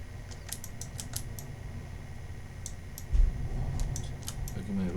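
Rapid keyboard presses and clicks on a computer keyboard while working in ZBrush 2018, including the X key, clattering in quick irregular bursts over a steady background hiss.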